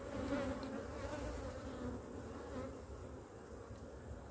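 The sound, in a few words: honey bees at an open hive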